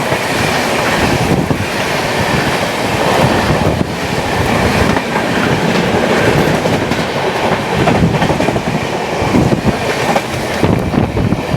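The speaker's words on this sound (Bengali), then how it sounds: "এই হচ্ছে ট্রেন" Tebhaga Express LHB passenger train running on tracks, a loud continuous roar of rolling wheels and rattling carriages with rhythmic clickety-clack over rail joints, heard close throughout with no talking.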